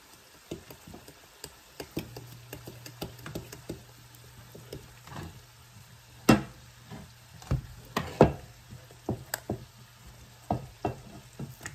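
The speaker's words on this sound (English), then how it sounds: "Now let's stir this up." A spoon stirring and scraping through food in a pan while making Salisbury steak, with irregular knocks and clacks against the pan over a low steady sizzle, close and fairly quiet, no talking.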